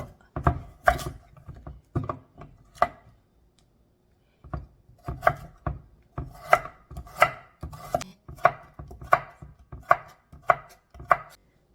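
A knife chops garlic chives and other vegetables on a cutting board in quick, even rhythmic strikes, with a short pause partway through before the steady chopping resumes, close and clear with no talking.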